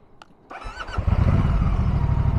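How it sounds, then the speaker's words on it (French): A 2024 Moto Guzzi Stelvio motorcycle starts in neutral: a brief starter whine, then the engine catches and settles into a loud, steady idle rumble close by. "on va faire démarrage au neutre avec passage première vitesse"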